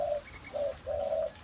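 A captive spotted dove coos three times, softly and fairly close. The notes are short and rounded, and the last one is drawn out longer than the others.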